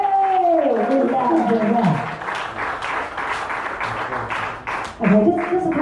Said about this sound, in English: So round of applause and for Terry for launching